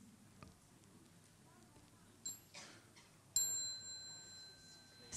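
A mindfulness bell is invited during a holiday retreat practice: a faint light ding comes first, then one clear struck bell rings out and sustains with a long, slowly fading resonance in a quiet room.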